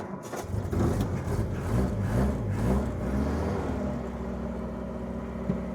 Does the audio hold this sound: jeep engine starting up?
yes